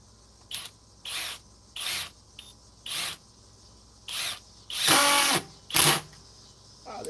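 A cordless drill with a bit drives a screw that resists going in, running in several short bursts of a second or less with brief pauses between, plus one longer, louder burst, close up and without talk.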